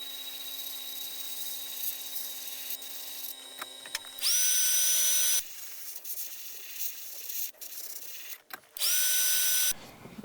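An airbrush paint shaker machine shakes a tube of paint, giving a buzzing motor drone with a whining tone, switched on in two short loud bursts separated by quieter handling clicks and rattles.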